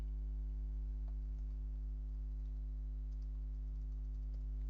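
Soft, quick keystrokes tap out a complex password on a computer keyboard, faint irregular clicks over a low electrical hum.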